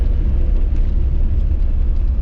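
A VAZ 2106 on the move, its engine and exhaust giving a loud, continuous low rumble with steady road drone and no voices.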